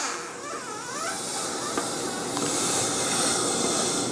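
A sausage stuffer loaded with beef sausage meat gives a steady, soft hiss as air escapes from its top while the handle is slowly pushed down, continuous and fairly close throughout with no talking.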